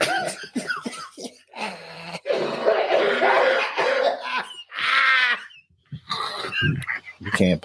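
A few harsh coughs and throat-clearing bursts break up bits of nearby talk, with short silences between them.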